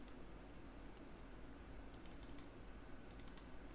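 Faint clicking of a computer keyboard at a desk during animation work, a few quick key presses in short clusters over a low steady hum, with no voices.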